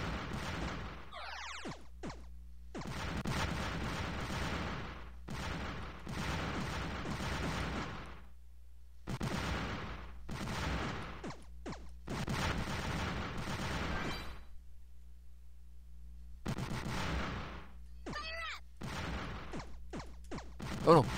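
Bomberman game explosions in a thin ice arena with full fire and cut-through bombs, heard as repeated bursty blasts in quick clusters, separated by short silent gaps, with gameplay sounds and a loud hit at the end.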